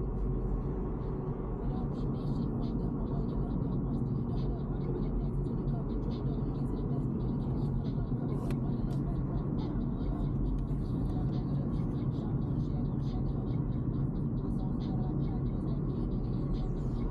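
A car cruises along the road with a steady, low rumble of road and engine noise that runs throughout, while a person speaks over it.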